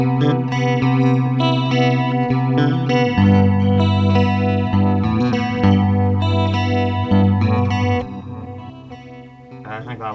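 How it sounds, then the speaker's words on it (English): An electric guitar run through effects units plays sustained chords and picked notes, thick with chorus, vibrato and reverb for a spacey, wavering tone that dominates throughout before easing slightly near the end. "a nice, like, spacey, vibrato-y type of effect on it"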